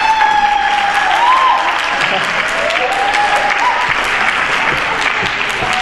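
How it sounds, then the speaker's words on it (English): An audience at a youth anti-racism event claps steadily throughout, a dense, loud wash of applause with a few higher tones and murmurs mixed in. "If you guys want to clap, go for it."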